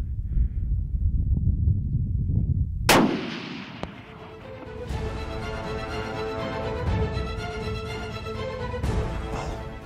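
A single loud rifle shot rings out at an antelope buck during a hunt in open country, its sharp crack trailing into a rolling echo, followed by steady wind and low rustling outdoors.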